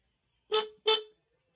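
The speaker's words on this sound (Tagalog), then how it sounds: "Ito naman yung stock horn." A stock car horn honks twice in quick succession, two short, slightly buzzy beeps close by, followed by silence.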